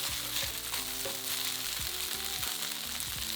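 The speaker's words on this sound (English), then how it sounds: "fry for about 5 to 6 minutes until the gnocchi's got a nice crust" Gnocchi sizzle and crackle steadily in a hot pan seasoned with salt and black pepper, a dense continuous frying hiss with occasional soft knocks, close and fairly loud, no voices.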